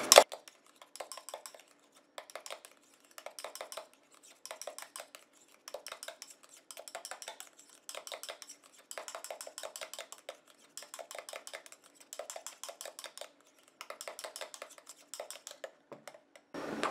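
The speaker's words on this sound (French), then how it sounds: "Je mélange." Homemade moisturizing anti-aging day cream is mixed in a bowl, the utensil scraping and clinking in quick repeated bursts with short pauses between them, close and fairly quiet, with no talking.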